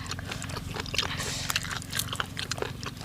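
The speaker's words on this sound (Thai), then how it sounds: "กินแคบหมูอยู่อ่ะพี่น้อง" Crispy pork rinds being chewed close up, rapid irregular crunches and bites over a steady low background hum.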